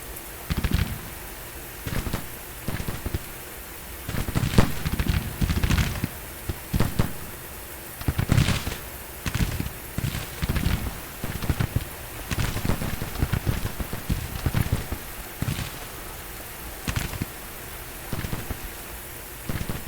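Scattered musket volleys crackle from a Civil War battle in Grand Tactician: The Civil War, dense irregular pops and bursts rolling on without pause like distant rain, mid-distance and steady, with no voices.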